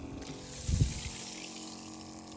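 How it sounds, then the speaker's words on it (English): Water sprays from a camper van shower head as the flow is turned on, a soft rush swelling briefly with a low gurgling burst near the start, then a steady hissing stream. "so now turn the water on"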